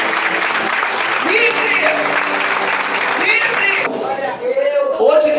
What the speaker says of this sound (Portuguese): Você que é livre nesta hora, aplauda bem forte ao Senhor Jesus.